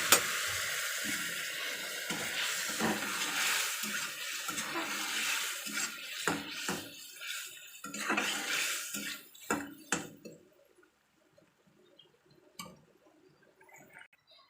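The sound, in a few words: water poured into a pan of frying fish curry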